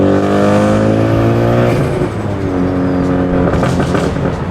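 A big-turbo Ford Focus ST with its blow-off valve unplugged roars loud and close, engine pitch climbing and then dropping off into a rapid fluttering chatter from the intake.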